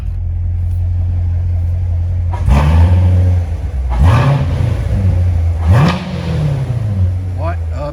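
A 2017 Chevrolet Corvette Grand Sport 2LT convertible with an automatic gearbox idles with a deep, loud rumble, then takes three sharp revs a second or two apart, each falling back to idle.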